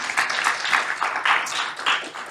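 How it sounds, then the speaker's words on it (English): Brief applause from an audience at a regional fast pitch competition, clapping in pulsing waves that stays close and moderately loud. "Let's give them all a round of applause again."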